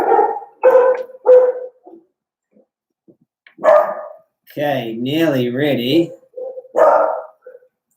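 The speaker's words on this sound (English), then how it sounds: "The dogs are barking." Several close, loud dog barks in short bursts, including a drawn-out whining yowl, mixed with brief speech from a person nearby.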